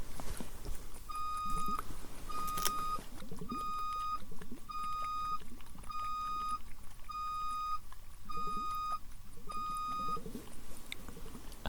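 Eight short electronic tones beep at a steady pace, clear and distinct above faint background murmur and rumble.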